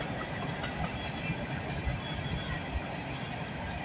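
A CN freight train rolls past on the rails at Bronte, a steady, loud rumble of wagons with rhythmic wheel clatter and faint squeal, no voices heard.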